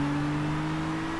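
A GT Academy 2013 race car in a video game, its engine holding a steady loud whine that rises slightly as it accelerates, close and continuous with no talk.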